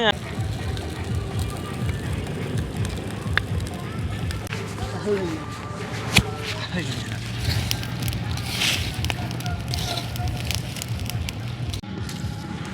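Palm leaves burn in an open fire in green farm fields where jackfruit seeds are being roasted, giving a steady close crackle and hiss with occasional sharp pops, while people talk over it throughout.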